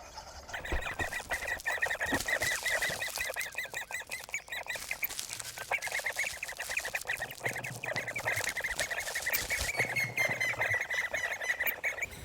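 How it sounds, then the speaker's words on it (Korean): At a great spotted woodpecker nest in a large maple trunk, shrill bird calls chatter continuously and rapidly, fairly close and steady throughout. "오색 딱따구리가 큼지막한 단풍나무 줄기에 둥지를 마련했습니다."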